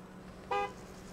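One short car horn toot in a gas station simulator game, a clear single honk standing out over a low steady engine hum.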